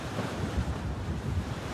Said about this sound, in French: La tempête Ingrid balaie toute la Bretagne depuis ce matin.